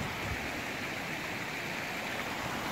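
A river runs beside a field with a steady, unbroken rushing wash of water at an even level throughout.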